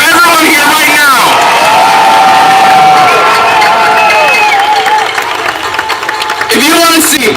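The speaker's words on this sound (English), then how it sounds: "Can I get another round of applause for everyone here right now?" Crowd at an outdoor No Kings protest rally in Orlando cheering, whooping and clapping loudly and close by, with shouted voices and whistles riding over the roar before it thins slightly toward the end.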